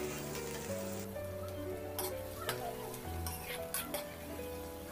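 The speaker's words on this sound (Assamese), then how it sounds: "পিঁয়াজখিনি আপোনালোকে প্ৰথমতে কেঁচা গুণটো যোৱাকৈ ভাজি ল'ব ভালদৰে।" Chopped onions sizzle in a pan as the base for a jackfruit seed curry, a steady close frying hiss with occasional stirring scrapes over a low background hum.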